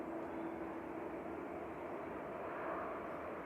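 A DHL Boeing 767 cargo jet passing overhead, a faint, steady distant engine roar with a low hum and no speech.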